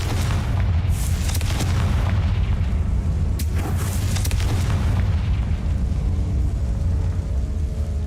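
Confringo spell blast in Hogwarts Legacy, a loud booming explosion that fills the whole clip with a dense, sustained rumble and crackling debris, with no talk.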